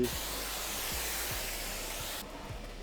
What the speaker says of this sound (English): I'm gonna make sure I spray everything